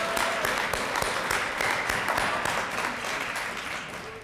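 Audience applause for the chairs of an evening benefit event, a dense steady patter of many hands clapping that holds throughout and tapers slightly at the end.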